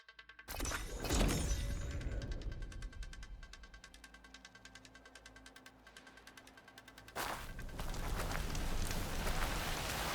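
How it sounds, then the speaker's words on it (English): Steady rain hisses and patters across the whole clip in the video game Horizon Forbidden West, with a sharp burst near the start and another surge toward the end. "It's starting to rain."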